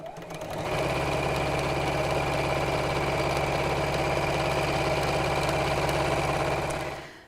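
Sewing machine quilting stitch lines across a rattan handle bag, a close, steady mechanical whir that starts up abruptly, runs evenly for about six seconds and then stops, with no talking.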